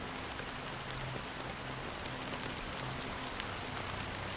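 Fine drizzle of black rain falling over the sea in the video game Honkai: Star Rail, a steady dense hiss of raindrops with a faint low hum beneath, no voices.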